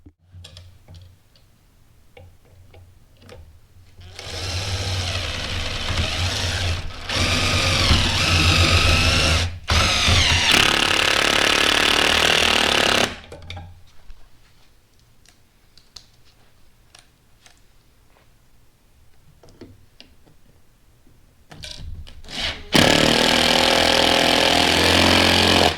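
A power tool drives bolts to mount a combi boiler onto a plywood board, heard in several loud sustained whirring bursts separated by quieter gaps with light clicks and handling noise.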